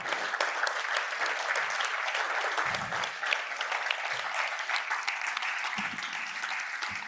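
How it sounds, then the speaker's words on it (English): A conference audience at a panel event on research and politics applauds steadily for several seconds, with close, distinct claps over a dense wash and a few faint low murmurs. "A big round of applause for this fantastic panel."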